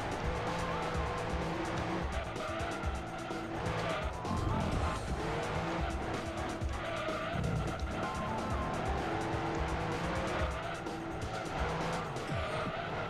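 A Gran Turismo 2 race car roars loudly with a howling, shifting engine note, mixed with tire squeal and skidding, sustained and close for the whole stretch.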